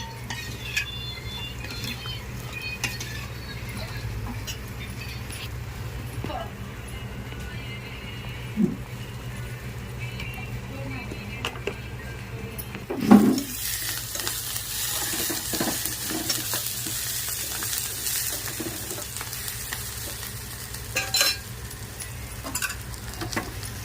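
Onions fry in a pan at the start of a Telugu tamarind pulusu, with a faint, continuous sizzle and occasional clatter of stirring, one louder knock midway.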